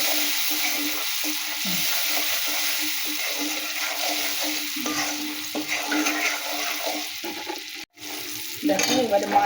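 Ground spice paste of ginger and cumin frying in hot oil in a pan for a Bengali oil koi fish dish, a steady broad sizzle with scattered spoon scrapes, one sharp knock near the end and louder spattering after it.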